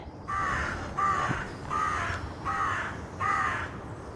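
A crow cawing five times in an even, slow rhythm on an early-morning walk on New Year's Day, each harsh call clear and moderately near over faint outdoor background.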